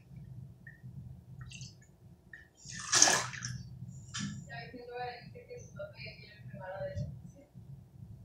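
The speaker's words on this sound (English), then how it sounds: "we're going to fill the juice box with water" Water runs into a juice box as a steady, low rushing stream that lasts the whole stretch, with voices talking over it and a brief louder splash near the middle.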